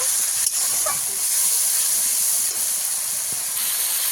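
Spice paste with chilli powder and a splash of water sautéing in hot oil for a fish curry gives a steady, loud hissing sizzle that holds unbroken throughout, with no voices.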